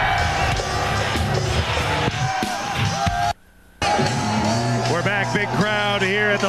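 The stadium crowd at a 2001 XFL football game between the Las Vegas Outlaws and Memphis Maniax at the Liberty Bowl in Memphis roars and cheers beneath loud broadcast commentary, with a brief dropout in the middle.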